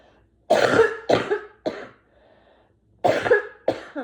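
A woman coughs in two clusters, three sharp, close coughs, a short quiet gap, then two or three more, each one loud and harsh with no talking between them.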